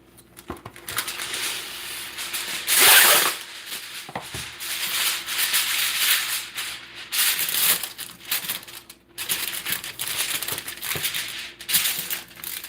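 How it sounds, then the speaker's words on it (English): Aluminum foil being pulled and pressed into a baking pan in a home kitchen, a continuous crinkling and rustling with louder scrunches and brief pauses, close by and without talking. "go ahead and line my pan with some aluminum foil"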